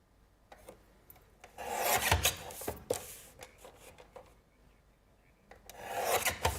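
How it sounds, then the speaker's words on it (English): Paper being trimmed into mats and layers for cardmaking, heard as repeated close rasping, rubbing strokes in bursts, some short and some longer, with quiet pauses between and no talk. "I'm just literally just trimming all of these down to make my mats and"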